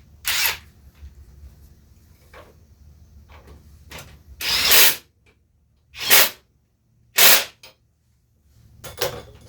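Ryobi power tool driving a wheel nut on a Kubota zero-turn mower, heard as several short loud bursts of whirring and rattling with quiet gaps between, close by and without talk.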